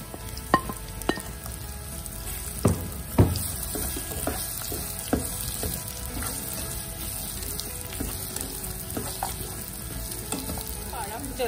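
Cashews and cut banana pieces frying together in a pan, a soft even sizzle with occasional sharp clicks and taps of a spatula, moderately close and steady.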